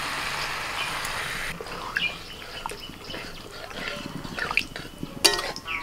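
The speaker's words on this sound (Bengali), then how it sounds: "এবার জল দিয়ে দিচ্ছি।" Water is poured into a pan of cauliflower curry with fried cauliflower, giving a trickling, splashing wash over the first second or so, followed by quieter kitchen clatter and a few sharp clinks near the end.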